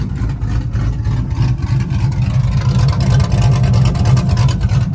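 A loud cammed truck, freshly fitted with a new exhaust and mufflers, revs with a choppy, lumpy idle that climbs into a rougher, throatier roar, close and dominant throughout.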